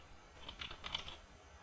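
A few quick taps on a computer keyboard come in a short, light burst of key clicks, close but quiet, over a soft room hiss, with no voice.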